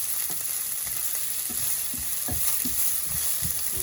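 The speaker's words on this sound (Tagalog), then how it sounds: "Golden brown lang natin yung ating onion." Onion fries in a pan for a chicken curry, a steady sizzle with clicks from stirring, close and moderately loud with no talk.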